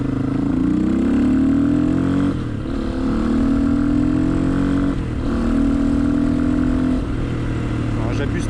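Honda XLR125R motorcycle fitted with a reinforced clutch, its single engine climbing steadily in pitch through three sustained pulls with brief dips between gear changes, loud and close while riding.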